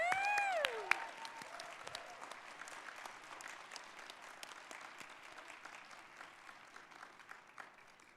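Applause for newest PhD recipients at a university graduation ceremony: a fairly faint, distant crowd clapping steadily, with a brief whoop or cheer at the start before the clapping continues alone and slowly thins.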